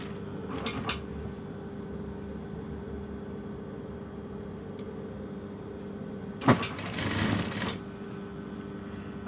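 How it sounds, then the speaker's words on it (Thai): A sewing machine stitches a folded fabric hem on a pleated dress in two short runs, a brief rattle near the start and a louder whirring burst of about a second later, with quiet room hum between. "ผ่อนผ้าชิ้นบนที่เราพับเนี่ย เข้าไปในจักรนะคะ"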